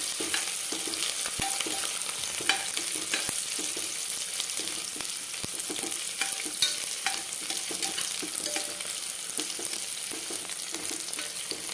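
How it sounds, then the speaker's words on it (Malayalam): Sliced onions sauté in oil inside a pressure cooker while a tomato pulao is being made: a continuous close sizzle with scattered scraping and clinking from stirring, and no talk over it. "ഇതൊന്നും വഴറ്റിയെടുക്കുക കേട്ടോ."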